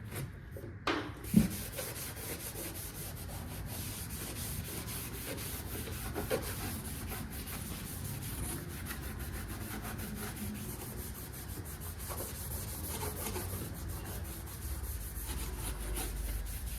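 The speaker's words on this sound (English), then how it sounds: "Grab the nearest scuff pad and we're just gonna start scuffing this thing." Scuff pad rubbed by hand over engine parts of a modified 351 before painting, a steady close scratchy scrubbing that runs continuously with a brief knock near the start.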